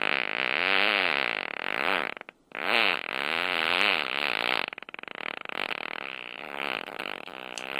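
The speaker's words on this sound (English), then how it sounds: "She ripped a smelly fart." A long, loud fart with a buzzing, wavering pitch that sputters in separate bursts with brief gaps between them, close and alone without any talk.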